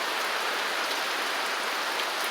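Steady rain falling in rural Jamaica, a dense, even hiss of drops striking surfaces close by, loud and unbroken throughout with no other sounds.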